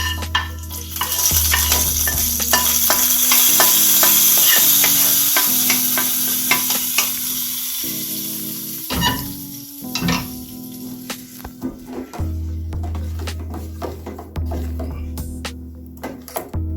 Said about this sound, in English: Stir it a little bit so that the seasoning get mixed to the yogurt